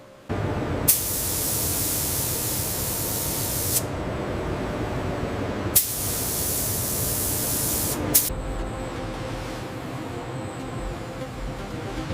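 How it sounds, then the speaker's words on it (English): A rotary spray machine hisses as it applies protective coating to cognac brown cow leather in a factory, long steady bursts of spray broken by brief pauses and sharp clicks, loud and close with no voices. "As the Cognac Brown leather enters the rotary spray machine, a precise laser scan maps the surface before the protective coating is applied."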